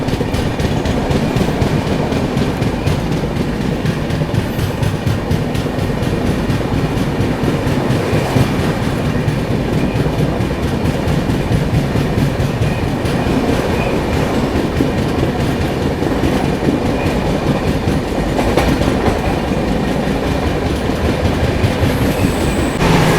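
The Puri–Chennai Central weekly superfast express runs at speed, heard from on board. It makes a loud, continuous roar with rhythmic clickety-clack of the wheels over the rail joints and occasional squeals, with no talk.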